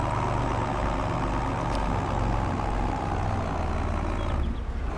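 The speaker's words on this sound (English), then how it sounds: "Absolutely love this tractor." Tractor engine in Farming Simulator 22 droning steadily with a deep low rumble throughout, loud and close, with no talk over it.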